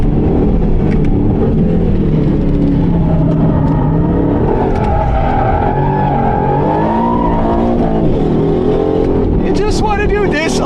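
Aston Martin Vantage engine revving hard and continuously as the car drifts sideways, the pitch rising and falling with throttle; tire squeal joins near the end.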